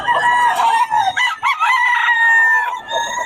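A rooster from Batangas crows loudly up close in one drawn-out cock-a-doodle-doo, with short clucks from other chickens around it.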